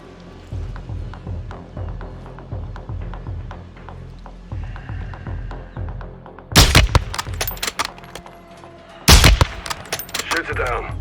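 Bursts of gunfire from a Call of Duty Modern Warfare 2 campaign firefight, scattered shots early and then two loud, dense volleys near the end, with a voice talking between the shots.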